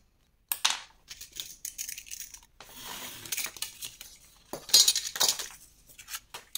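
Scissors cutting paper strips for a scrapbook advent calendar, a series of crisp snipping bursts close by with short pauses between them and no talking.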